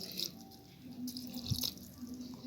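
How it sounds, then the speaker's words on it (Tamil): Half a cup of water poured into a mixer jar of rice batter for appam in a home kitchen, heard as a soft, brief splash and dribble against faint background hum. "இதில் இப்போ ஒரு அரை கப் தண்ணி ஊற்றிக்கலாம்"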